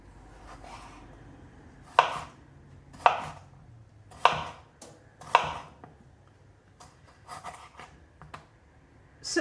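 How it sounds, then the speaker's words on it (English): A knife slices four or five potatoes into quarter-inch slices, giving four crisp, evenly spaced chops close up, followed by a few softer taps and scrapes, with no voices. "take 4 or 5 potatoes, cut them into about 1/4-inch slices"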